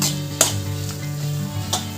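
Prawn curry frying in oil, a steady close sizzle with a couple of sharp stirring scrapes, loud and alone with no voices.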